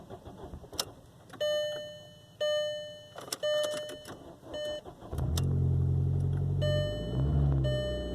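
An older Volkswagen car that had been sitting a while, heard as the engine cranks in several short attempts before catching and settling into a steady, close, rumbling idle.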